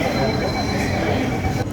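A Mumbai Metro Line 3 train pulls into Santacruz station, its steady rumble and faint wheel squeal filling the platform continuously, with a brief dip at the end and a voice speaking over it.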